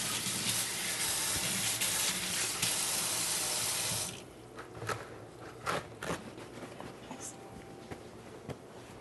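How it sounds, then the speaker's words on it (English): Kitchen tap water runs steadily and loudly into a sink as hands are washed for about four seconds, then cuts off, leaving quieter clinks and handling noises. "I'm going to wash my hands off a second."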